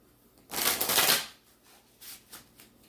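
Tarot cards shuffled in one loud riffling burst, followed by a couple of softer, shorter shuffles close by.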